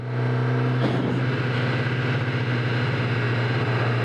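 Kawasaki ZX10R sport motorcycle engine while riding slowly on a city street, a steady loud drone with a low pulsing tone that holds without pause, no talking.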